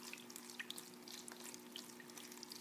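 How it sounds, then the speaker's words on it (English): Used water dripping and splashing into a box beneath the turbine of a small working hydropower model, a quiet, continuous patter of irregular drips and trickles over a faint steady hum. "The used water is going down into this box."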